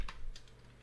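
A couple of quick computer keyboard keystrokes while code is typed, two or three light clicks close by in a quiet room.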